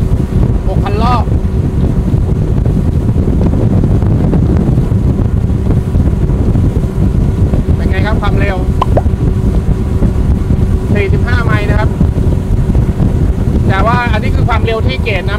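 A Polar 23 ft twin-engine fishing boat runs hard at about 6,000 rpm, its engine roar buried under heavy wind buffeting and rushing water, with someone speaking briefly several times over the noise.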